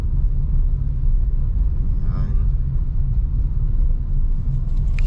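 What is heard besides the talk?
road traffic with trucks heard from inside a car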